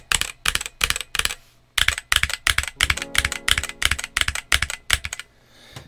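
Cherry Xtrfy K5 compact RGB gaming keyboard typed on up close, a steady run of crisp keystrokes in bursts with a faint metallic switch ping ringing under the clacks.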